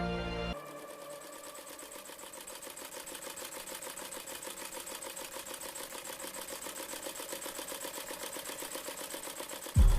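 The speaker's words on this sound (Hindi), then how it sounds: "घर की पुरानी सिलाई मशीन से" An old household sewing machine runs steadily, its fast mechanical stitching chatter continuous and close, starting abruptly after a brief louder sound and ending with a sharp change.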